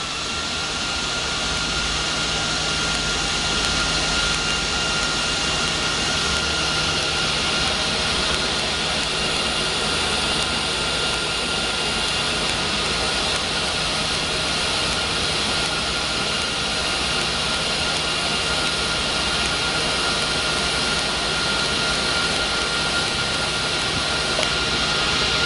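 A Miller Multimatic 215 lift-arc TIG welder runs on 1/4 inch material, giving a steady, loud, unbroken buzzing hum that holds the whole time.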